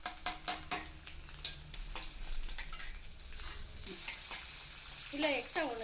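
Mustard seeds, fenugreek, a lump of asafoetida and two chillies sizzle in hot oil in a pan, a steady crackling fry with a few scrapes and clinks of a stirring spoon, close and fairly quiet.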